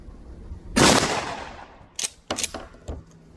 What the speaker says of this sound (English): All right, second shot.